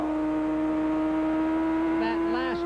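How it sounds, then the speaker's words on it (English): A 1988 CART race car engine at the Meadowlands drones at a steady pitch from onboard, then its note wavers and bends briefly near the end as it rides over a bump. "That last change of engine note that you heard was him riding over a bump."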